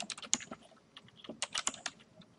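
Typing on a computer keyboard, two quick bursts of light key clicks separated by a short pause, close and quiet with no voices.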